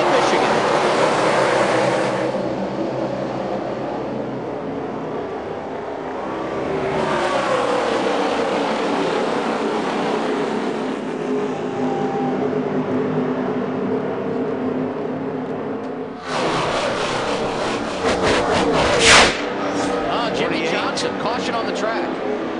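NASCAR Sprint Cup race cars at the 2011 Michigan race, the engines a continuous loud roar that rises and falls as the field passes, with a commentator talking over it.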